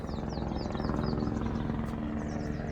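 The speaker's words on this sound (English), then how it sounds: "On cue with the helicopters." Helicopter rotor drone passing overhead outdoors, a steady loud throb with engine hum that holds level throughout, alone with faint birdsong above it and no talking.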